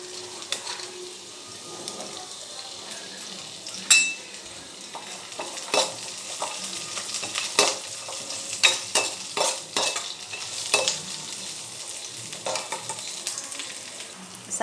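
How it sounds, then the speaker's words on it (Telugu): Thinly sliced onions fry in a pan for a curry, giving a steady sizzle broken by repeated sharp scraping and stirring taps of a utensil against the pan. "అలానే మనం సన్నగా తరిగి పెట్టుకున్నటువంటి ఆనియన్స్, వీటన్నిటిని కొంచెం ఫ్రై చేసేయండి."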